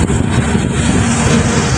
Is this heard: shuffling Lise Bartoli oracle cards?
no